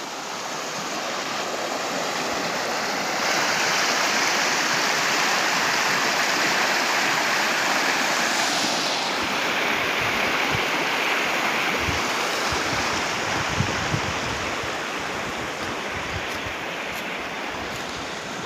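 Floodwater surges through a broken roadside drain after heavy rain, a loud, continuous roar of rushing water close by that holds steady throughout.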